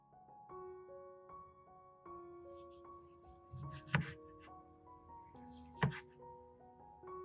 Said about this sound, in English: carefully slice the rotten tomato thinly